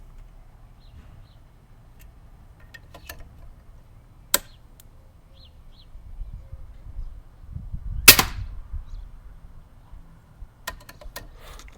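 Rifle shots ring out on a range during testing of a Vector Optics Tauron GEN2 5-50x60 competition scope: a few sharp, separated cracks in otherwise quiet surroundings, with one louder report near the middle.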